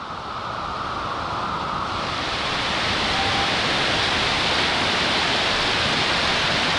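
Waterfall on the Kolpa river in Bela Krajina, a steady, loud broadband rush of falling water that swells after the first couple of seconds and continues unbroken, with no voices.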